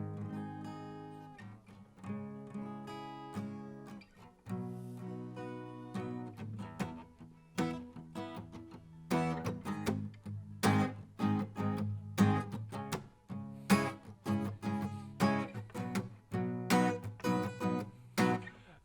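An electric guitar plays the basic power chords of a song alone, a steady rhythmic strumming pattern with muted gaps that grows denser and more driving toward the end.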